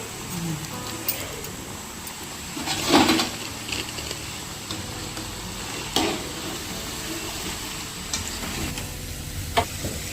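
Vada frying in hot oil, a soft continuous bubbling sizzle with occasional louder crackles and clinks, fairly quiet and close.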